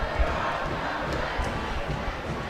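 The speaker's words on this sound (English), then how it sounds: "The crowd is amazing." Crowd at a Lynx boys high school basketball game cheering loudly and steadily throughout, a dense sustained roar with no clear individual voices standing out.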